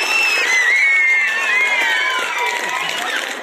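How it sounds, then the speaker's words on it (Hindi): Students at a government middle school's Children's Day prize-giving ceremony cheer loudly as a crowd, shrill excited voices and shouts blending into a sustained, dense wave of noise. "जोरदार ताली।"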